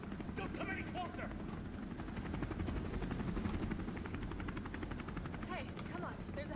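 A helicopter's rotor thrums steadily beneath Resident Evil 3 Remake game audio, with voices talking over a dense, continuous mechanical drone.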